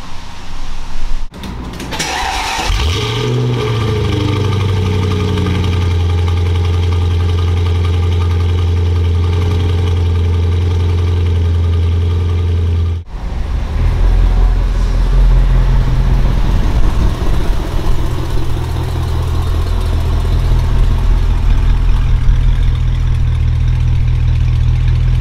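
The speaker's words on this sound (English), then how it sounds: "I'm going to be driving the car, going to do a couple pulls with the boost gauge up" A supercharged Mercedes M113K V8 car engine drones loud and close, holding a steady roar, then dropping briefly before rising again into another sustained pull.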